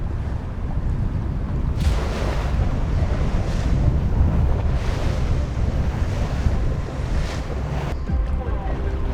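Strong wind buffets the microphone over steady surf and breaking waves at the start of a sailing race, a loud continuous roar with gusting surges and no talk.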